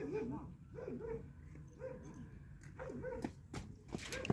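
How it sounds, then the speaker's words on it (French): Puppies in Morocco whimpering and yipping in short high bursts, with a few small barks scattered through, close by while people talk over them. "On va voir les chiots."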